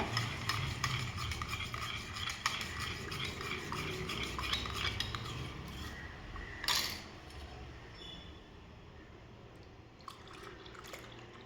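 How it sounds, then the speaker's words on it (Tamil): A spoon stirring homemade ABC malt mix in a cup, rapid rhythmic scraping and light clinking that fade after several seconds, followed by a few soft taps and drips. "இந்த மாதிரி மிக்ஸ் பண்ணிவிட்டு அதுக்கப்புறமா நம்ம எல்லா பாலையும் ஊற்றி மிக்ஸ் பண்ணோன்னா ஈஸியாக மிக்ஸ் ஆகிடும்"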